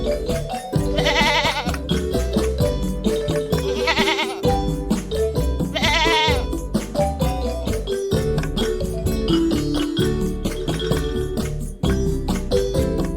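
Goats raised on a farm bleat repeatedly in loud, wavering calls that overlap and recur every couple of seconds, with no talk present.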